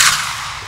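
A single loud rifle shot fired while hunting axis deer on an abandoned pineapple plantation in Hawaii, a sharp close crack decaying into a brief outdoor echo.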